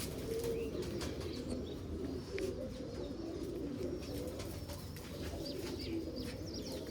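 Soft, repeated cooing of pigeons with a few faint chirps, close by against a quiet background.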